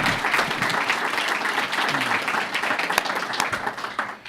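An audience applauds the young essay authors at a Memorial Day essay awards ceremony, dense steady clapping from a crowd filling the whole stretch at an even level.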